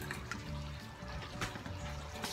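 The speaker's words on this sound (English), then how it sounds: "we're going to take off some water and add it right down in there to it" Water, about two cups, poured into a cooking pot of onion burgers and gravy with green beans, a steady splashing pour with trickling, close and continuous, over a low background hum.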